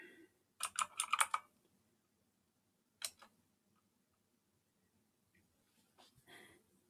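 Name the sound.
typing a Linux command on a computer keyboard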